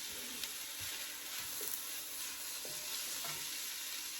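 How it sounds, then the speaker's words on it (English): Onions sizzle steadily in a hot pan, a constant bright hiss with occasional soft scraping clicks as they are stirred. "Hopefully you can hear me over the onions sizzling. Let me stir them."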